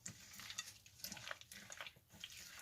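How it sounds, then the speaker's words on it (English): Chocolate chips stirred into a pot to make a 12-ounce batch of fudge, with soft scraping and clinking of a spoon against the pan in a steady, close, quiet rhythm. "I am just going to simply stir this up real quick. Just get these chocolate chips covered."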